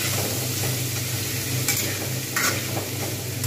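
Soaked sago tossed into a hot oiled pan for Bengali sago pulao, a constant close sizzle with a couple of sharp spoon scrapes against the pan as it is stirred.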